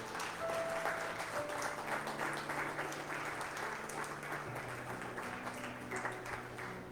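Church congregation clapping and applauding together, a steady dense wash of hands sustained throughout at moderate distance, with a faint tone lingering beneath.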